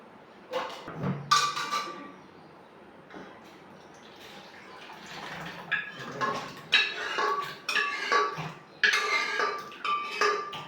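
A pressure cooker is emptied and washed in a kitchen, with irregular clanks of metal pots, splashing and running water, and scattered pings and knocks, close and moderately loud with quiet pauses between bursts.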